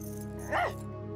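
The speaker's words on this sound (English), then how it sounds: "You're the best dog anybody could have." Cartoon dog Buster gives a single short, rising-and-falling whimpering yelp over a steady background hum, fairly faint and alone.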